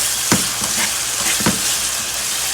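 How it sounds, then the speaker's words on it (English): Herring sizzles and fries steadily in a pot for a Haitian herring and okra rice dish, with a few sharper crackles and stirring knocks over the continuous hiss, close and alone. "I'm gonna go ahead and add my herring like this. We're gonna allow that to cook"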